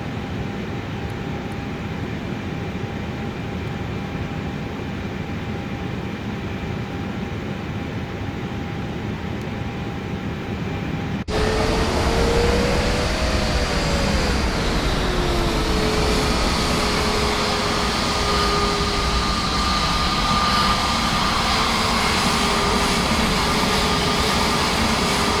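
Airliner jet engines spooling up for the takeoff roll in Microsoft Flight Simulator 2024, a steady broadband roar that jumps louder partway through, with a rising and falling whine over the continuous rumble.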